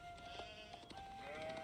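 Sheep bleat in Age of Empires 4 on a Dry Arabia map, a few faint game bleats over a steady bed of in-game ambience and a sustained tone, with no talk.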